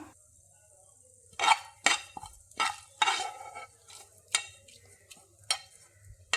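Browned fried ingredients are mashed and stirred into a Kerala udachu curry, a series of distinct scraping, clattering strokes of a utensil against the pan, spaced about half a second to a second apart over a quiet background.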